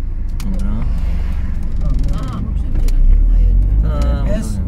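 Car engine and road noise close by from inside a moving vehicle, swelling louder near the middle as another car overtakes, with people talking over it throughout.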